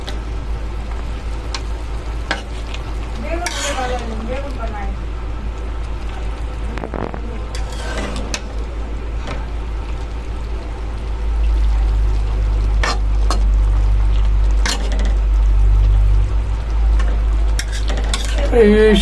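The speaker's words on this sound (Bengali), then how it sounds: "প্রথমে তরকারি দেওয়ার পরে হালকা নাড়াচাড়া দিয়ে দিলাম" Radish, red amaranth stems, potato and small fish curry get stirred in a pan, with scattered clinks and scrapes of a utensil over a steady low sizzle and hum that grows louder partway through.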